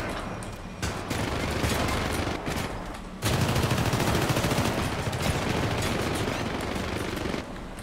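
Sustained minigun fire roars through a boss fight in the Syndicate video game, a dense continuous rattle of rapid shots that briefly drops out, then resumes louder and steady until the end.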